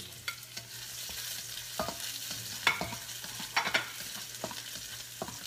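Garlic stir-fries in a hot pan with a steady soft sizzle, punctuated by scattered clicks and scrapes of a spatula stirring, close and fairly quiet with no talk.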